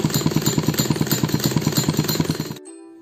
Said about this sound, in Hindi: इस तरह से हमने बाजू स्टिच कर लिया है बिल्कुल साइड से